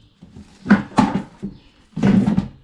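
A trailside mailbox door on the Appalachian Trail is handled and shut, giving several close, hollow knocks and clunks in quick succession.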